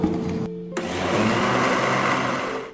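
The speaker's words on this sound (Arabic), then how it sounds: "اللبن بتاعنا هننزل بيه في الخلاط مع القشطه." A blender mixing milk and cream whirs steadily at high speed after a brief stop and restart, loud and continuous with no talking.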